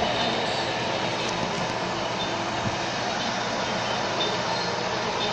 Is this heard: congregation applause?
no